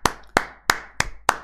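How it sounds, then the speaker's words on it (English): Five sharp, evenly spaced hand claps ring out alone at a slow, deliberate pace, each a crisp close snap with a short decay. "Clap for Adnan Rashid for providing an ayah to show us that Allah is not all-knowing"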